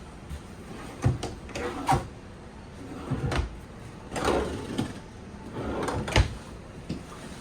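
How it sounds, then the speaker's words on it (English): Pull-out drawers in the kitchen of a 2025 Forest River Salem Hemisphere Elite 36FL fifth-wheel RV slide open and shut, giving a series of close, soft clunks and rattles about once a second, with no talking. "Some pull-out drawers here."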